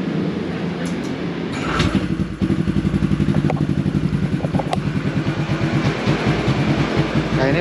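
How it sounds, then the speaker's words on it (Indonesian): A Honda PCX 160 scooter with a freshly bored-up engine starts after a brief rattle, then settles into a heavy, lumpy idle. The rapid, throbbing pulses are loud and close. "Nah ini motor sekarang udah nyala, dan idle-nya agak masih berat ya."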